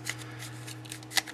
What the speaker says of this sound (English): And just slide it back on there like that.